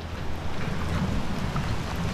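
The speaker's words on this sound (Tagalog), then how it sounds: "So medyo malakas na po yung ulan no." Heavy rain pours down in a thunderstorm outdoors, a dense, loud, continuous roar with low thunder rumbling underneath and no voices.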